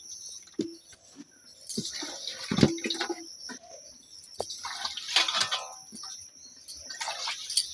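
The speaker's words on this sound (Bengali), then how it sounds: "এবারে ভালো করে ধুয়ে জল দিয়ে নেবো।" Taro greens (kochu shak) being washed with water, with splashing and handling noises in uneven bursts, close and moderately loud, while birds chirp faintly outdoors in the background.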